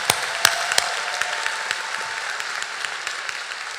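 An audience at a college commencement ceremony breaks into sustained applause, many hands clapping densely together with a few sharper claps standing out early on.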